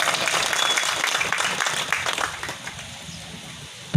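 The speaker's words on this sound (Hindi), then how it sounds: "ऐसे छलोत्रे के लिए एक बार जोरदार ताली" Crowd at an outdoor political rally in Harsud breaking into loud applause for a minister's speech, a dense burst of clapping that gradually thins and fades, then a sudden sharp knock at the very end.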